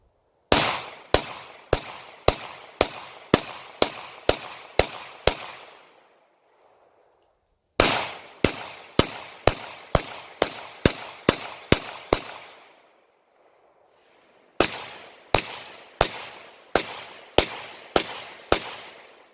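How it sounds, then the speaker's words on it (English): A handgun loaded with MagTech ammunition fires three rapid strings of sharp, loud shots, roughly eight to ten rounds each, with brief pauses between strings while held in a firm grip. "I'm going to shoot it, and you'll see it cycles fine."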